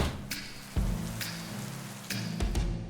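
Heavy night rain pours steadily in an animated story, a dense hiss with patter on surfaces and a few sharp drip or thump accents, no voices over it.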